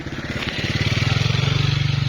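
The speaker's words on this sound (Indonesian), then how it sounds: "Ntar ada motor datang" A motorcycle engine in a village setting, its pulsing putter growing steadily louder and closer over a couple of seconds, a rapid regular chug dominating the scene.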